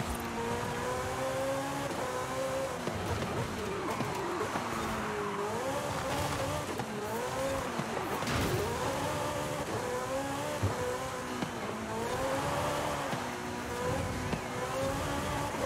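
A Porsche 918 Spyder races in Forza Horizon 5 as its rear slides out. A loud engine revs continuously, rising and falling in pitch, with tire squeal and skidding mixed in throughout.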